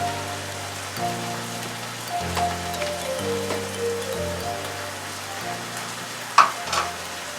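Bacon fries in a pan for a pasta dish, giving a steady, close crackling sizzle that runs throughout beneath soft background music.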